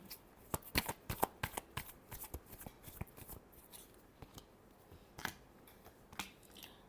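Tarot cards being shuffled by hand, a close, quiet run of crisp riffling flutters and snapping card slaps in irregular bursts, with no voice.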